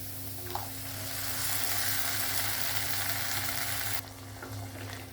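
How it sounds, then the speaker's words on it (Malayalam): Tomato paste sizzles and fries in a pan for a palak paneer base, a close, steady hiss of sautéing with faint stirring scrapes and no talk. "ടൊമാറ്റോയുടെ പച്ചമണമൊക്കെ മാറിടം വരെ ഒന്ന് നല്ലോണം ഒന്ന് വഴറ്റിയെടുക്കുക"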